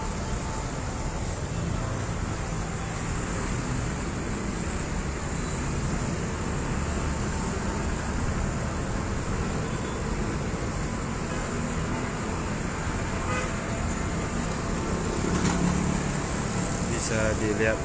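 Trucks and buses queue at a busy fuel station, with a continuous rumble of idling engines and road traffic beneath a person talking throughout.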